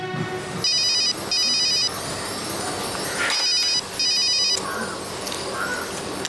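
Telephone rings for an incoming call in a domestic drama scene, four evenly spaced electronic ring bursts, clear and fairly close over a faint room background.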